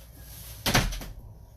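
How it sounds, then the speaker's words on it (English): A household door bangs shut once in a quiet room, a short sharp thud with a brief rattling tail, moderately loud against faint background noise. "Don't slam my door."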